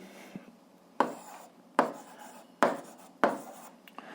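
Pen or pencil writing out an algebra solution on paper, faint scratching strokes with five sharper taps or stroke onsets spaced about a second apart, close and quiet with no talk.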